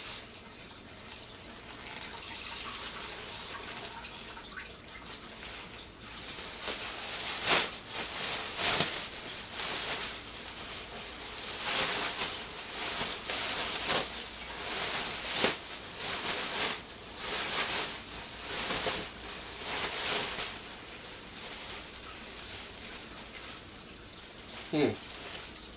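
Water is poured over shredded paper bedding while setting up a plastic food-composting worm bin, a soft running trickle with intermittent splashes under steady background noise, with a voice talking over it.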